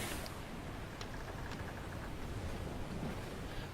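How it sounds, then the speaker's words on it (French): Rough, high ocean waves in the Roblox pirate game Turbulent Seas, a steady broadband wash of surf and wind that rolls on without a break, with faint creaks and tones above it. "apparemment les vagues sont très hautes"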